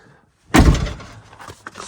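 The storage box door on an Owl Vans van shuts with one firm thud, followed by a brief rattle and light clicks as it settles, close by.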